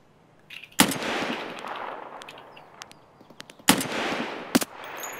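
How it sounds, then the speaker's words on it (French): Three sharp, loud gunshots from an SVD sniper rifle in Escape from Tarkov, spaced seconds apart, each ringing out with a long echoing tail across open ground; no talking. "Je sais pas s'il faut que je tire plus haut avec le SVD"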